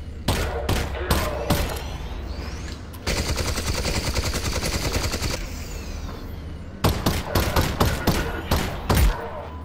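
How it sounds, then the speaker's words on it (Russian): Pistol gunfire in Half-Life: Alyx comes as loud, close shots, first a quick string of separate bangs, then a long sustained burst, then another rapid volley of individual cracks. "я стреляю с пистолета"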